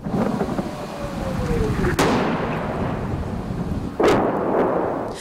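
Artillery shelling in Bakhmut, with two sharp booming blasts about two seconds apart, each followed by a long rolling rumble, loud and fairly close.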